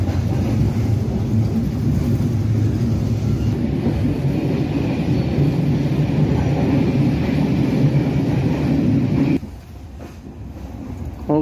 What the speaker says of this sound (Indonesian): kereta memasuki stasiun Karangsari ya